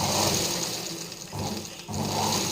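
A sewing machine runs with a plate presser foot on fabric, giving a steady close mechanical whir that dips briefly twice and then resumes at the same speed.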